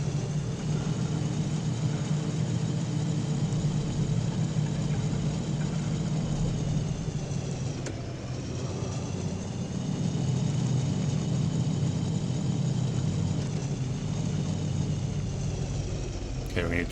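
A truck engine rumbles steadily in the trucking horror game Prospice: Anomalous, a continuous low drone with mid-pitched whine held throughout, briefly dipping once, with a voice talking over it.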